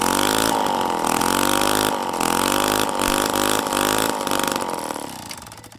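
A homemade two-stroke engine built from hardware-store parts, held at wide open throttle: a loud, buzzing, steady high-rev drone with brief dips, then tailing off at the end.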